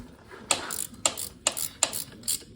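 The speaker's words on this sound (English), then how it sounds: "Let's get a 12 millimeter wrench." A 12 mm wrench ratchets while tightening a bolt on an HMF performance exhaust, giving five short, close bursts of crisp clicking spaced about half a second apart, with no voices.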